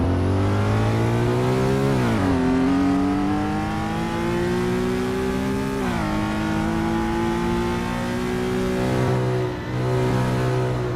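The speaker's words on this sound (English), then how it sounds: "the engine screaming as Snape holds the line" A 1960s race car engine in Assetto Corsa racing at Thomson Road screams steadily at high revs, dropping briefly on gear shifts and climbing again, loud, close and unbroken without talk.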